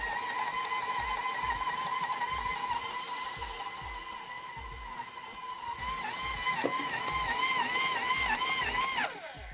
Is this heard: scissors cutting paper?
no